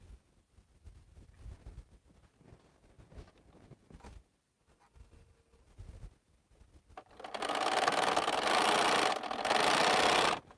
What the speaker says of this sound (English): I'm just going to pick up my first piece and just flip it over and sew it down